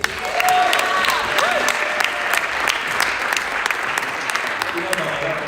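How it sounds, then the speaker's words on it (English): Audience applause at a college chorale variety show, a dense, steady wash of clapping lasting throughout, with a few voices and whistles rising through it. "let's give another round of applause for Craig and company"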